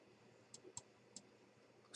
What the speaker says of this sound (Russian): Двойной щелчок, чтобы подтвердить